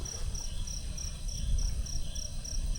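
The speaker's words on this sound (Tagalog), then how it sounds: "yung mga kuliglig, yung mga kulisap." Crickets chirp in a steady, high-pitched pulsing rhythm at a mountain campsite in Tuba, Benguet, repeating evenly over a low background hum of distant highway traffic.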